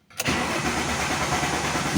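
Alfa Romeo 164 V6 Turbo Busso engine cranking briefly, catching and settling into a steady rumbling idle, close and loud.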